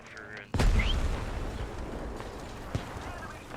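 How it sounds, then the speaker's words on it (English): Mortar fire in the video game Squad during a British versus US mechanized battle: a sudden heavy boom followed by a long rumbling decay and a fainter later thud, with a voice heard briefly beforehand. "they need to watch those mortars though"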